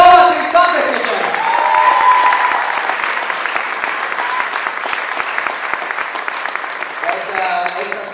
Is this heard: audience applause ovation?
yes